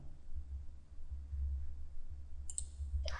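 A computer mouse gives two sharp clicks near the end during work in Inventor 3D CAD software, over a steady low electrical hum in a quiet room.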